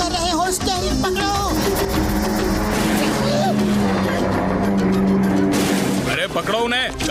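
A cartoon car tears along in a chase with a loud engine roar and tire squeals, while excited voices shout over it and music plays beneath.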